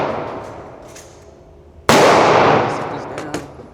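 A single sharp, loud gunshot from a Glock 40 Gen4 pistol at an outdoor range, with a long reverberating tail, preceded by fading echo and followed by a faint later pop.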